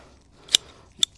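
Scissors prune iris leaves down near the ground, giving two crisp, separate snips about half a second apart against a quiet background.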